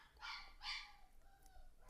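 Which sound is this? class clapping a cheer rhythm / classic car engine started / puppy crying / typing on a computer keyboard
puppy crying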